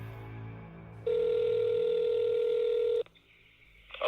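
A telephone rings with one long steady electronic tone for about two seconds after a quiet stretch, then cuts off, followed by faint clicks.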